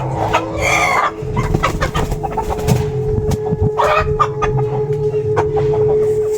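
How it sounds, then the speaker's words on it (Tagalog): Chickens cluck and a rooster crows in a yard, repeated bursts of fowl calls over a steady hum, close and fairly loud; four birds brought from Calamba, one seemingly congested. "Parang sinisipon yung manok natin ah."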